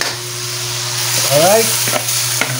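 Squid hits a hot pan with chili and pepper, breaking into a loud steady sizzle with stirring clatters, while a voice speaks briefly.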